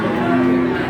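A cow moos at the Tuban livestock market in one short, loud, close call with a steady droning tone and no talk over it.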